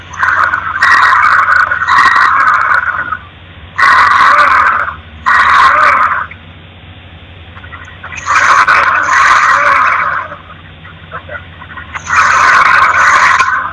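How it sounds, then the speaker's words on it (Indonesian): An idling car engine is repeatedly revved in loud bursts, each rise of throttle crackling and popping with backfires through the exhaust, with quieter idle between. "Ada ledakan yang muncul di knalpot."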